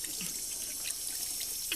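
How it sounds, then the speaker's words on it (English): Steady tap water runs into a kitchen sink while dishes are washed indoors, a continuous hiss with a few light clinks and splashes, fairly close and without talk. "I didn't ask you to come over here to wash all the dishes."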